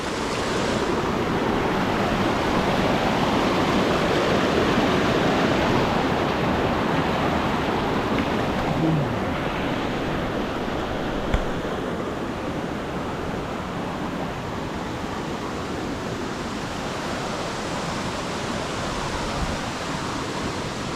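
Water rushes steadily over a flooded road while someone wades through it, a continuous broad wash of sound that stays loud and even throughout.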